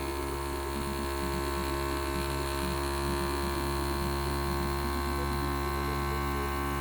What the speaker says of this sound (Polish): Słychać teraz, że gaz, gaz krąży w tym obiegu.